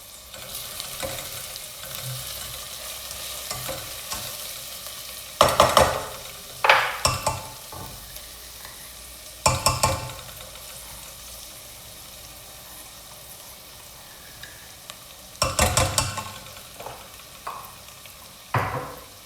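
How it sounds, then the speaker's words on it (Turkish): Garlic added to onions and sautéed in a pan for a carrot vegetable soup, a soft steady sizzle broken by several sharp scraping stirs and clatters close by. "Şimdi soğan üzerine ekliyorum sarımsakları."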